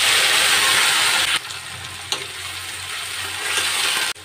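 Tomatoes hit hot oil with cumin, crushed ginger, garlic and chopped green chilli and erupt into a loud, dense sizzle that drops to a softer, steady frying hiss after about a second, with a couple of sharp clicks.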